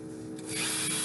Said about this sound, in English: Okay, so now I'm going to drill